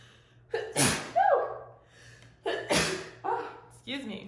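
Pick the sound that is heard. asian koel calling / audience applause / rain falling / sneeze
sneeze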